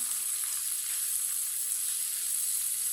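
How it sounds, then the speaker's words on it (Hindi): Spices frying in a pan as a spoon stirs them, a steady hissing sizzle close up and fairly even throughout, with no talking. "इसे चम्मच चलाते हुए पकाना, नहीं तो मसाले जल जाएंगे।"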